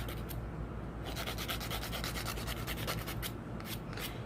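A fingernail being sanded across the top with rough sandpaper, heard as quick, rhythmic back-and-forth rasping strokes, close and fairly quiet, with no voice over it.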